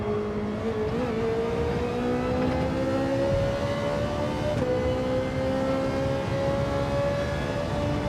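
A race car in Gran Turismo 7 holds a steady engine whine that dips briefly under braking, then climbs smoothly again as the throttle comes back on, loud and continuous with no talk.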